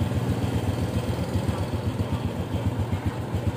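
A motorcycle engine with its chain fully enclosed idles close by, a steady low, even chugging rumble with no revving and no voices.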